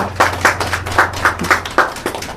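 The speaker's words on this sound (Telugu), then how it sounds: "చప్పట్లు కొట్టండి అబ్బా" An audience claps at an event honouring senior voters, with uneven rhythmic claps from a small group, close and fairly loud, over a low steady hum.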